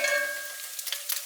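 Bacon fries in a cast iron frying pan with a soft, steady sizzle and a few light pops, heard briefly and close, without talk.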